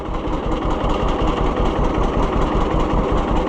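An Oliver 1365 tractor engine runs loud and close with a steady, rapid low-pitched chugging pulse throughout, without any talking.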